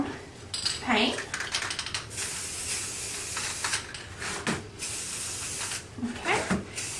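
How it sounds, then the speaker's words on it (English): A spray can coats a wooden cross in brown paint in several short hissing bursts with pauses between them, accompanied by nearby clicking and handling noises. "we're going to spray this cross a brown paint"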